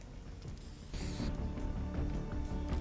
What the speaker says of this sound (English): And we got the Slone spray.